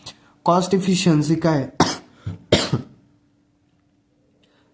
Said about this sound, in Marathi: पण मी थोडंसं आजारी असल्यामुळे खोकला वगैरे येतोय